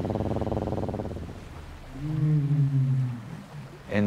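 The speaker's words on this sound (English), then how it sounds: "Whales produce these rumble sounds, similar to what you hear with an elephant." A whale's very low rumble vocalization, a long steady drone that rises slightly in loudness and then fades over a few seconds, heard alone without talk.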